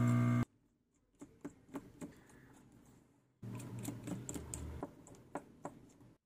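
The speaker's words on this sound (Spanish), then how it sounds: "Ahora vamos a retirar todos los tornillos." Small tools clicking and tapping against an OPPO Reno 7 phone as its screws are removed, a loose series of light, close ticks over a quiet background, with a louder burst of handling near the start.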